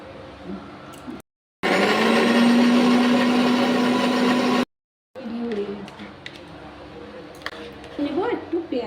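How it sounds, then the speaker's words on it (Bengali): An electric mixer grinder whirs steadily for about three seconds while blending red chillies and garlic into a paste for a chicken recipe, loud and close, between stretches of someone talking in a kitchen. "প্রথমে আমি লঙ্কাটা মিক্সি করে নেব।"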